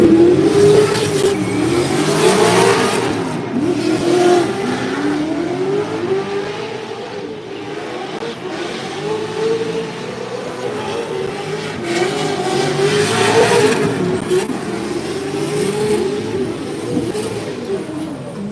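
Drift cars at a Formula Drift pro warmup on a New Jersey track, engines revving hard and wailing continuously at loud volume, with rising and falling pitch as cars slide past.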